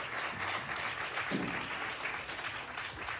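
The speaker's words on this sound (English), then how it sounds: "Y'all give Troy a big round of applause." A crowd applauding, a steady wash of clapping from many hands heard from a distance, continuing throughout.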